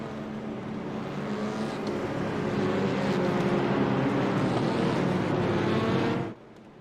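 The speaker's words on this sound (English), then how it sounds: "Let's just listen to these touring car engines one more time." Touring car engines racing in the iRacing video game at Magny-Cours, a loud continuous engine roar that builds steadily and then cuts off abruptly near the end, no talking.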